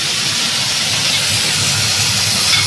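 Pumpkin greens drop into hot oil with fried potato, eggplant, lentil dumplings, five-spice and dried chilli, giving a loud, steady, close hiss of frying that runs unbroken throughout.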